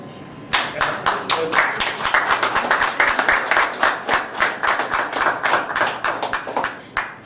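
Applause from a small audience at a talk, with distinct individual claps starting sharply and continuing at a lively, slightly uneven rhythm, close and clear, with no talk over it.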